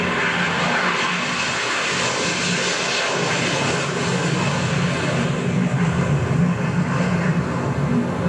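A German Navy F-104G Starfighter jet of the Eggebeck demonstration team roars on takeoff at an air display, a loud steady engine rush that builds slightly toward the end, with no talk.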